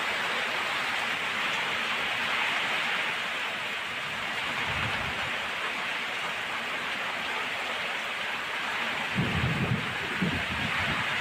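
Heavy rain pours steadily during the first storm of the year, a continuous dense hiss with low rumbling gusts of wind swelling twice, no voices.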